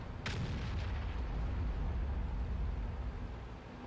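A KV-2 tank's large howitzer fires once in the World of Tanks video game, a sharp blast at the start followed by a sustained low rumble, with no voices.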